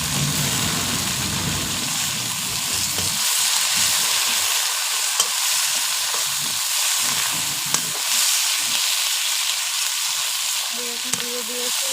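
Bottle gourd leaves go into a hot frying pan for a fish curry, starting with a fuller, rumbling burst before settling into a bright, steady sizzle with a few small clicks, with no speech.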